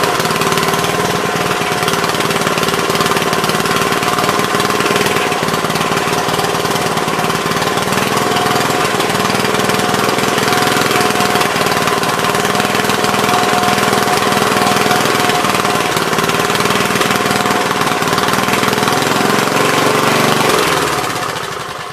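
A Troy-Bilt tiller engine, previously troubled by a bad spark plug, runs steadily and loudly at close range for the whole stretch, with a constant droning rumble and no talk over it.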